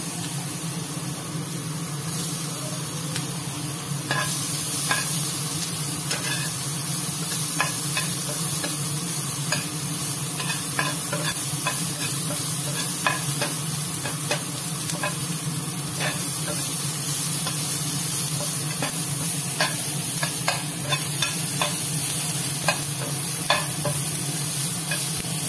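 Onion stirred and fried in a hot pan for corn chaat makes a steady, close sizzle throughout, punctuated by frequent sharp scraping clicks of the spatula.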